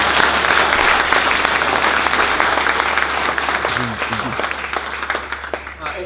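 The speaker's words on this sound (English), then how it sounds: "Another big round of applause for Steve Gibbs." An audience at a symposium gives a big round of applause for a speaker. The clapping is dense and loud at first, then thins and fades over the last few seconds as a voice begins underneath.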